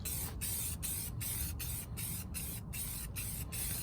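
Spray can applying primer onto a car rim in light, repeated bursts, a steady close hiss broken by short gaps.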